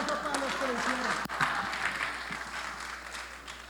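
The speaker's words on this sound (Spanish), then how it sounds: "un aplauso para los que lo hicieron." Church audience applauding participants after a game during a service, clapping mixed with voices that fades toward the end.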